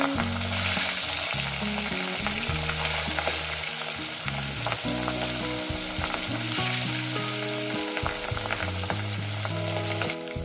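Hot oil sizzles in a pan while fish curry with vegetables is being cooked, giving a loud, continuous close-up crackle with steady spattering and no voices over it.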